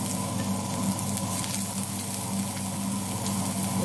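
Chopped onion sizzles steadily in hot coconut oil, a dense, close crackling fry that holds even and loud throughout without any talk.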